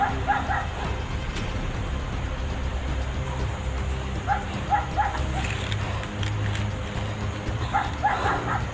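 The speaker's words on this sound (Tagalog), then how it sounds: "May aso pa ito." Dogs bark and yip intermittently at a distance on a mountain on Burias Island, short scattered calls over steady outdoor background noise.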